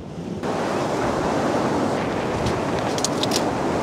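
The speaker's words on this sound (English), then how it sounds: "The wind is not making my life easier." Strong outdoor wind buffets the microphone on a building site where a wall is being raised, a constant loud roaring rumble that fills the whole stretch, with no speech.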